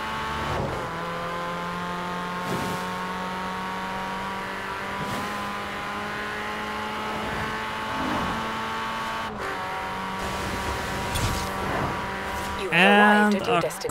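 A Mini Countryman races in Forza Horizon 4, its engine droning steadily at high revs with short dips at gear changes, then a burst of tire squeal near the end, with a voice talking over it.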